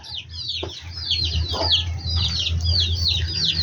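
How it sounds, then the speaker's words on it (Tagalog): Chickens and other birds cluck and chirp nearby in a busy, continuous chorus of short repeated calls over a low steady hum, with no talk. "Then yung mga ibon natin na nandito. Ayan, nandiyan pa sila."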